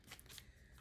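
A deck of tarot cards being shuffled, a brief soft riffle of papery flutters heard close and alone.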